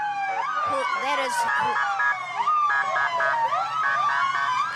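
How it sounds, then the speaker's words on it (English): Emergency vehicle sirens wail and yelp with sweeping, rising and falling tones at an Independence Day parade in the Village of Riverside, loud and close, while a person talks briefly over them. "if they would turn their sirens down"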